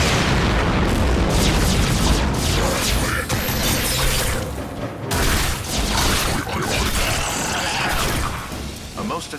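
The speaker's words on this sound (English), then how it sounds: "A most effective barrage" Explosive barrage in a Star Trek video game, heavy booms and shattering crashes piling up in a loud, chaotic stretch, with mechanical clanks and a voice heard faintly among the blasts.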